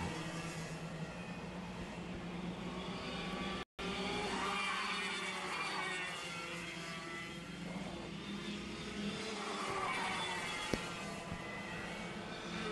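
Racing karts battle through a turn at a WKA Man Cup race, a continuous distant engine drone that rises and falls in waves, with a brief dropout partway through.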